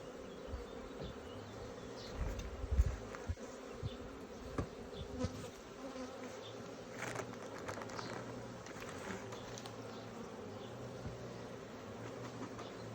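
Honey bees humming steadily around an open beehive during work to combine swarms, a continuous close buzz with occasional louder individual bees and light wooden knocks and handling noises, no speech.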